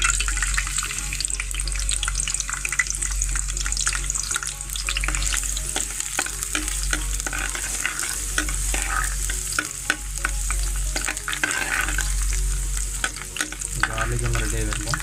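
Garlic frying in hot oil for a tuna pathiri dish, with a steady close sizzle and repeated scraping stirs of a spoon against the pan running throughout.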